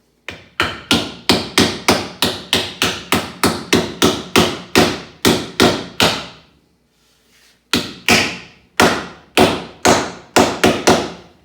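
A hammer tapping wooden drawer joints together, a fast series of sharp, loud knocks in a steady rhythm, a brief pause, then another burst of quicker taps, close and alone.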